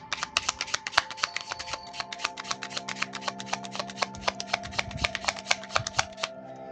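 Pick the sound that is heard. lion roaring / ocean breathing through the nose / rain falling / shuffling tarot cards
shuffling tarot cards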